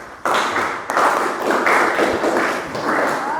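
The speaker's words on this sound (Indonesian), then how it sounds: "Kita beri tepuk tangan buat Edo." A classroom of students claps for a classmate, with a burst of close hand clapping starting abruptly and continuing steadily at moderate loudness.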